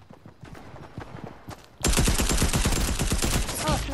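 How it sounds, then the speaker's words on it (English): A tactical submachine gun fires in Fortnite, a rapid loud burst of shots starting partway in and running to the end after quieter scattered sounds. "Oh, I got a tactical submachine gun."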